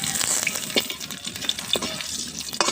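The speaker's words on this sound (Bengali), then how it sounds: "আদা বাটা দিয়ে অল্প করে জল দিয়ে দিচ্ছি" A little water goes into a hot cooking pan with ginger paste, whole spices and fried eggs. Loud, continuous sizzling and bubbling rise close by, with splashy bursts throughout.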